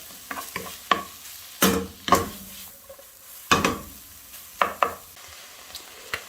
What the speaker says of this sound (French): on va venir comme ça faire revenir la viande avec les légumes